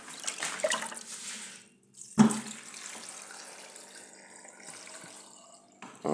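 Tap water runs steadily into a pot of sorrel being washed for a Jamaican recipe, a continuous splashing hiss with a brief louder gush partway through and no talking.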